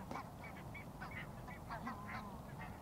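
A distant flock of geese from Svalbard honks repeatedly at Mersehead in winter, overlapping calls rising and falling over a low wind-like rumble.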